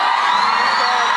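An audience at a live love-song performance screams and cheers in a loud, dense, continuous roar of high-pitched voices that fills the whole brief moment.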